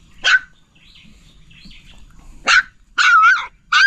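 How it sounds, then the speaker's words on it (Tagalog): Several puppies bark loudly and close in a rural outdoor yard, letting out high yaps in uneven bursts with short quiet gaps between them. "Ingay ng mga tuta."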